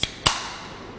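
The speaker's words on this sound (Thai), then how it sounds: "เวลาที่เราเปิดฝากระป๋องน้ำอัดลมแล้วก็จะได้ยินเสียงแบบนี้นะคะ" A soda can is cracked open close up: a small click, then a sharp pop that trails into a brief fizzing hiss as the gas escapes. No voices.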